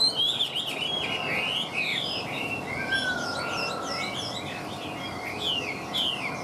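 A caged hwamei songbird sings a steady run of bright, warbling chirps and whistled phrases, close and clear against a faint background hiss, with no talking.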